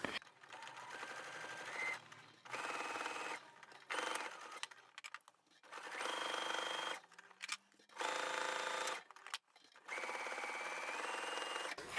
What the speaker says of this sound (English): take this back to the machine and we can just sew that fold in place all the way down the long edge